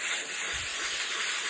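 A continuous, close hiss of Napier solvent cleaner sprayed onto a gun, steady and bright without a break.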